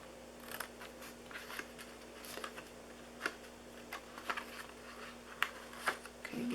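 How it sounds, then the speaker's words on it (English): Small snips cut through a handmade DIY box, giving quiet, irregular crisp clicks and snaps spaced a second or so apart, with the last few coming a little sharper. "I'm going to grab my little snips here because this is small cutting"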